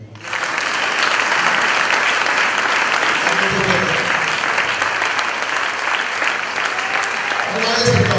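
Church congregation applauds after a healing testimony: sustained, dense clapping from a large crowd, steady and loud for about eight seconds with a few cheers and voices mixed in.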